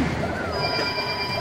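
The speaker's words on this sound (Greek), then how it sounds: "Σε κάθε βίντεο που κάνω πρέπει να χτυπάει το τηλέφωνο." Telephone ringing in a room during a mobile game session, a thin steady high electronic tone heard under someone speaking Greek.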